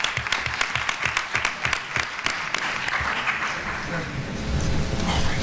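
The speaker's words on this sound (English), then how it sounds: "Another round of applause for Congressman Green." An audience applauds at a talk on women, violence and gun control: dense clapping starts with sharp, close claps and then blends into a fuller, rising wash of applause.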